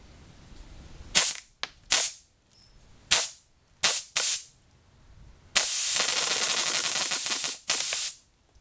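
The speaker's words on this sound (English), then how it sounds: "There you go, a little bit of burst fire." Homemade BB machine gun firing in sharp bursts, several short volleys followed by a longer sustained burst, loud and close with hissing air behind the shots and no talking.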